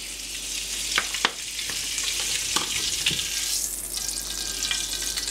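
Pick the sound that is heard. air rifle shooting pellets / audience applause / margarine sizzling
margarine sizzling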